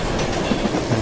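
An express train in Minecraft's Immersive Railroading mod rumbles past with a steady, close rolling clatter of wheels on rails, loud and continuous with no voices over it.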